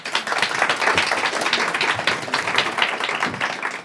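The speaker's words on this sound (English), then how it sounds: "so let's applaud to each other." Audience at a Diamond Challenge social innovation event breaking into dense, steady applause that fills the space, with no lulls and no talk over it.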